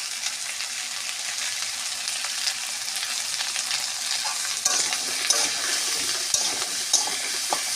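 Vegetables for a potato, pumpkin and papaya chorchori fry in a pan with turmeric, a steady close sizzle with scraping stir strokes growing busier toward the end, no talk.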